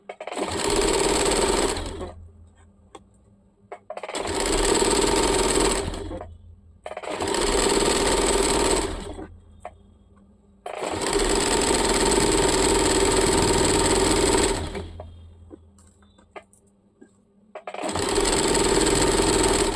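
Sewing machine stitching a single seam on a churidar, running in five loud bursts of about two to four seconds each, separated by short quiet pauses.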